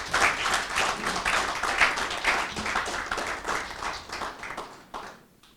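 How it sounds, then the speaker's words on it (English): An audience at an entrepreneurship development programme applauds in a brisk, fairly close round of rhythmic clapping that thins out and fades away toward the end, with no talking. "So let's clap for her."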